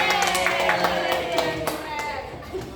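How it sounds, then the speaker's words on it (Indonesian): Students in a school group guidance session clap for a classmate, a short close round of hand claps with tonal voice sounds running beneath. "Tepuk tangan untuk temannya"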